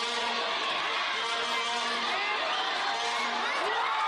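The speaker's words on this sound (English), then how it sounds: "The crowd loves it." Spectators at a FIBA U18 African women's basketball game between Tanzania and Madagascar cheer and whoop after a huge block, a loud sustained roar with shouting voices that stays dense throughout.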